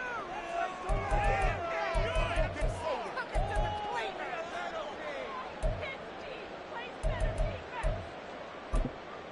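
Stadium crowd noise in a Madden football video game, a dense roar of cheering rising and falling in waves beneath steady play-by-play commentary, with rhythmic stomping thumps.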